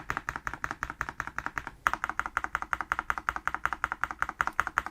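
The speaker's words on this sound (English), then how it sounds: "And just in general typing." Typing on an MSI Forge GK600 TKL wireless hot-swap mechanical keyboard, a quick steady run of close, crisp keystroke clicks with a short pause near the start, alone without talk.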